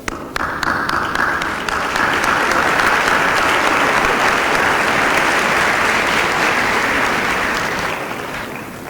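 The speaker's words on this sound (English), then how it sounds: "I think she deserves a significant round of applause." A large conference audience gives a loud, sustained round of applause. The dense, close clapping keeps a steady level throughout and tapers slightly near the end.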